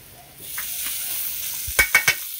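A pot of corn soup with Malabar spinach and katuk simmers on the stove, giving a soft steady bubbling hiss, followed near the end by three sharp clinks of a utensil against the pot.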